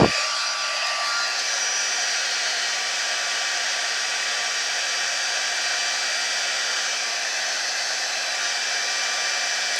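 A heat gun melts clear embossing powder on a scrap piece, giving a loud, steady blowing hiss that starts abruptly and runs unbroken throughout.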